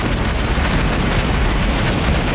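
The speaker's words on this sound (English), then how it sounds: "More relentless Russian artillery." Russian artillery explosions in the modern-warfare game Armored Brigade II, a dense, loud rumble of booms that rolls on continuously through the short stretch.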